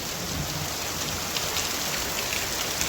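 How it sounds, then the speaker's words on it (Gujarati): Steady rain pours down in a dense, even hiss, drops pattering continuously on a surface in a village, with no voices. "રાણપર ગામમાં વરસાદ ચાલુ થયો"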